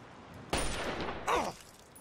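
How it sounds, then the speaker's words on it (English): Gunfire from an enemy shooter in Fallout 3, a loud crack of shots and rattling reports around half a second in, then a second sharp burst shortly after, fading into quiet ambience. "Somebody's shooting at me."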